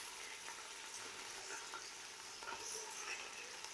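Onion frying with garlic-ginger paste for a fish yakhni pulao gives a faint, continuous sizzle and crackle throughout, steady and fairly quiet.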